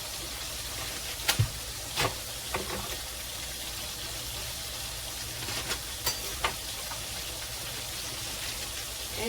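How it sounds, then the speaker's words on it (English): Celery sizzles in a hot skillet, a continuous broad frying hiss held at an even level, broken by occasional sharp pops and taps near the start and middle. "I'm just going to put celery in the skillet because this gives it such a good flavor"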